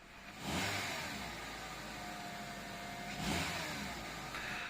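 A Honda Stepwgn RG1 engine revs up twice, rising in pitch and loudness and then settling back toward a steady hum between the bursts.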